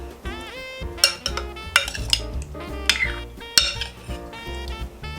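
A spoon clinks and scrapes against a bowl while stirring canned pineapple chunks with green Creme De Menthe, a few sharp knocks standing out over steady music.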